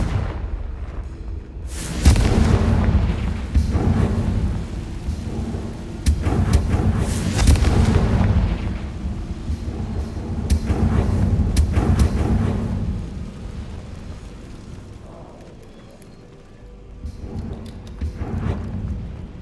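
Repeated blasting-spell explosions from the Confringo spell in the video game Hogwarts Legacy, a run of loud booming bursts with rumbling tails and a quieter gap before a final blast.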